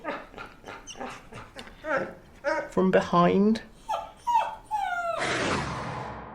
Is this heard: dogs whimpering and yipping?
yes